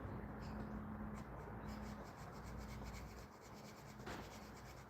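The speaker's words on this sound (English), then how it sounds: "We'll just use the screwdriver." Steady scraping and rasping of a screwdriver worked across a motorbike part at a shallow angle, continuous close rubbing with a few sharper strokes, with no voices.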